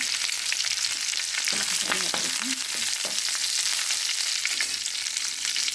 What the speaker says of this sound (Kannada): ಸ್ವಲ್ಪ ಫ್ರೈ ಹಾಕಬೇಕು.